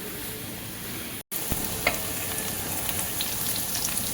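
Gooseberries (amla) fry in a pan with a constant close hiss, broken by a momentary dropout and followed by scattered clicks and taps of stirring against the pan.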